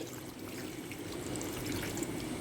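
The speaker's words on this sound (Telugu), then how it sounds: "కొద్దిగా ఒక గ్లాస్ వాటర్ పోస్తున్నానండి" A glass of water pours into a pot of mutton head curry, a steady close splashing flow lasting a couple of seconds with no talk over it.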